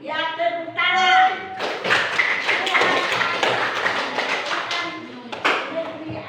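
Hands clap and tap in a church Bible lesson for children, a stream of sharp slaps running under singing and speaking voices for several seconds.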